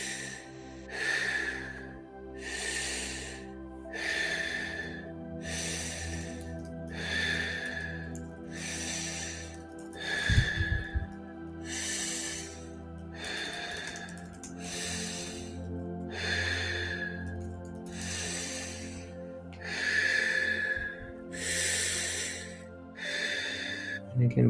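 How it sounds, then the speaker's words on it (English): About a dozen slow, even breaths in and out, each a soft airy rush, during a guided conscious breathwork session, heard close over a faint low background. "Continuing to breathe in and out, medium breaths."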